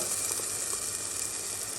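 Steady, close sizzling of blended tomato paste frying in a hot pan, a continuous hiss with faint crackles and no talking.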